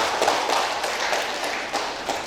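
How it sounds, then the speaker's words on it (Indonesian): A room of students at a health-program evaluation session bursts into brief applause, dense fast clapping from many hands that holds steady for a couple of seconds. "Tepuk tangan dulu"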